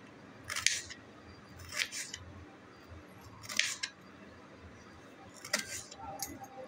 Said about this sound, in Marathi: आता हे व्यवस्थित असे पातळ कापून घ्यायचे आपण।